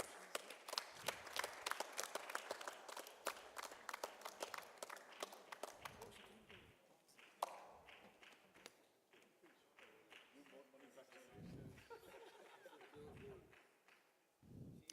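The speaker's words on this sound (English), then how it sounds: "Round of applause, ladies and gentlemen." A symposium audience gives a round of applause during an on-stage award presentation, a faint, dense patter of many hands clapping for several seconds, then thinning out under a few scattered claps.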